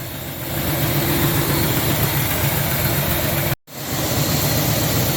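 A 1972 Buick engine idles steadily with a low, even rumble and vibration, close and alone, broken by a brief dropout near the end before the idle resumes.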